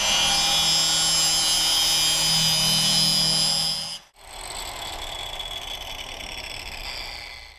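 A 3M Silver depressed center grinding wheel on an angle grinder grinds steel welds, a loud high whine with a brief dip near the middle before the grinding resumes rougher.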